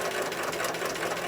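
A sewing machine stitches starched quilt blocks together, a quick, even mechanical chatter of needle strokes running continuously at moderate volume.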